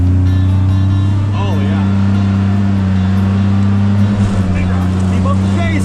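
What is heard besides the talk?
2025 Polaris Ranger XD 1500 engine climbing under throttle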